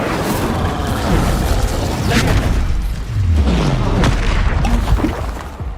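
The Incendium fire spell exploding in the video game Hogwarts Legacy: loud booming, crackling blasts fill the whole stretch, with low rumbles and whooshing swells and no voice heard.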